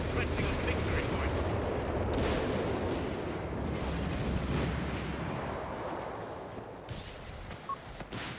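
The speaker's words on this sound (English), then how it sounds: "Artillery barrage on the way." An artillery barrage in Company of Heroes 3, dense continuous rumbling with overlapping blasts and gunfire, moderately loud and slowly fading.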